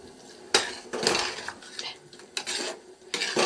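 A metal pressure cooker lid being closed over a pot of vegetable gojju, giving several sharp close clanks and scraping metallic knocks in quick succession.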